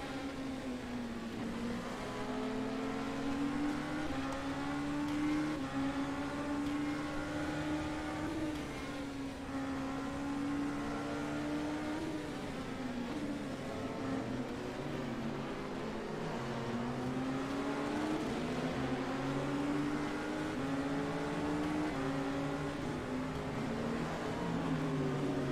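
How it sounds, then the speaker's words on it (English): A race car engine in a simulated sports car endurance race at Mid-Ohio, droning steadily near and loud, its pitch rising and dropping as gears change through corners. "You just hear Charlie Rigo changing up the gears ever so slightly, just in order to make sure he can get that good exit speed"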